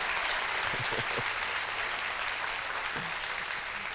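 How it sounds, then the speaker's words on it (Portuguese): Church congregation applauding during a Pentecostal sermon, a dense, steady wash of clapping that fills the space at a consistent level with no voices over it. "Aplauda ao Senhor e a sua palavra."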